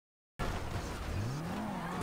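Mitsubishi car in GTA 5 driving off-road, a steady engine drone starting abruptly after a moment of silence, with a rising, revving tone toward the end and no talk over it.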